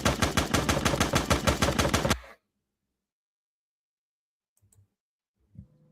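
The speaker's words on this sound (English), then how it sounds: "All I hear is gunshots." Rapid gunfire from a television commercial, a fast burst of about a dozen sharp, evenly spaced shots lasting two seconds, loud and close, then near silence with a couple of faint knocks.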